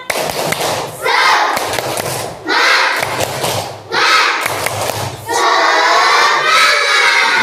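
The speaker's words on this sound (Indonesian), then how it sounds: "Semuanya tepuk semangat." A class of children does a rhythmic spirit clap in a school classroom, loud bursts of clapping and shouting in three short rounds, then a longer sustained stretch of mixed voices and claps.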